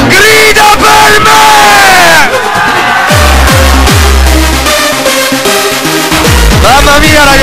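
A large crowd at a live music show shouts and roars back to a performer, loud and close, with heavy bass thumps from the music underneath and a dense wall of voices throughout.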